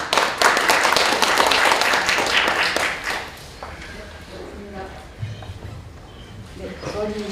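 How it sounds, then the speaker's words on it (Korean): A crowd at a public civic debate forum in Gyeongnam, South Korea, bursts into dense, close applause that lasts about three seconds, then fades into quieter sounds and a voice speaking. "큰 박수 부탁드립니다."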